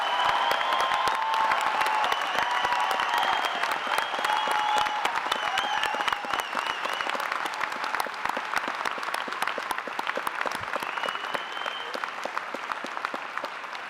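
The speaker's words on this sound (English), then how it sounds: "Let's give a final round of applause to the Spring 2026 class." Applause for the graduating class at a university convocation ceremony, a large audience clapping steadily and continuously in a big hall, with occasional faint cheers, holding strong for the whole stretch.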